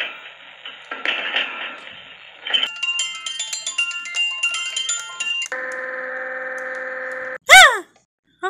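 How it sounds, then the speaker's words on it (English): A music box plays a bright tinkling melody in the middle of a mixed stretch, with hissy noise before it, then a steady sustained tone and a sharp chirping burst near the end. "I think I hear like a music box"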